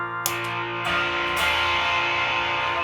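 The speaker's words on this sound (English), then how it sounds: "it probably, through the phone and all that, probably sounds like just some shitty distortion pedal" An electric guitar played through a switching-transistor op-amp distortion pedal rings out loud and sustained, with a few chords struck in succession and a thick, buzzing tone throughout.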